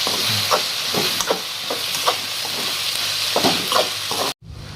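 Chopped tomatoes frying in a hot pan and being stirred, a steady loud sizzle with repeated scraping strokes, close up, cutting off abruptly near the end, no talking.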